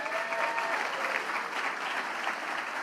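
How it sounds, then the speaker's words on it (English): An awards-ceremony audience applauds the honorees at an annual awards night, a sustained, even wash of many hands clapping. "Please give a round of applause for everybody being honored tonight."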